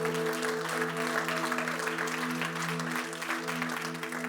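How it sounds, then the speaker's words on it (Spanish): A church congregation applauds steadily and loudly for the whole stretch, with a sustained musical tone, like organ or keyboard, holding underneath the dense clapping. "Denle ese aplauso fuerte a Cristo, porque Él es bueno"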